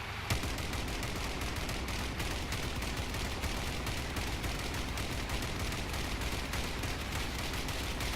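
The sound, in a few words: vehicle weapons firing in the video game Crossout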